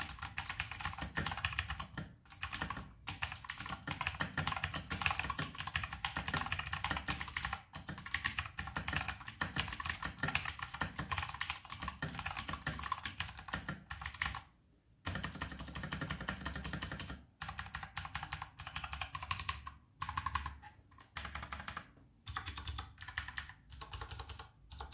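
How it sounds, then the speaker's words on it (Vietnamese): Fast, steady typing on a G-Net K89 TKL mechanical keyboard with Otemu Blue switches, dense clicky keystrokes close up and continuous for most of the stretch, broken by a few brief pauses. "vậy là mình đã thử cho các bạn nghe cái tiếng gõ của em này rồi"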